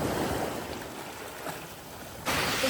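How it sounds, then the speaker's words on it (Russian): Sea surf at Maronti Beach on Ischia, Italy: a soft, steady wash of waves with a slightly louder surge near the end, fairly quiet and heard without talk. "Наконец-то мы добрались до моря."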